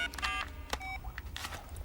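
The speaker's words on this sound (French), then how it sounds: "Je vais appeler Zoé avec mon portable." Cartoon mobile phone dialing, a quick run of bright electronic keypad beeps pressed one after another, close and clear over a low background hum.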